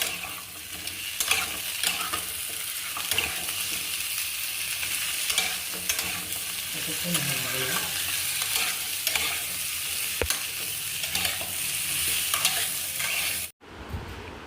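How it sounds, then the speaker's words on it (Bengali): Mixed vegetables and cut raw banana fry together in a pan for a light Bengali rohu fish curry. Steady sizzling runs throughout with repeated stirring scrapes and taps, close and fairly loud, then cuts off abruptly near the end. "এবার একসঙ্গে সবজিগুলোকে ভাজবো।"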